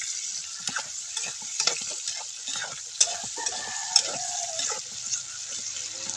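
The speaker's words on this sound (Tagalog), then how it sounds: "Yung tilapia na hinimay. Halu-haluin." Flaked tilapia being stirred in a frying pan with onion, a steady sizzle broken by repeated scraping and clacking strokes, close and fairly quiet, with no talk.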